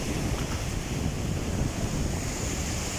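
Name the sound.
rough Arabian Sea waves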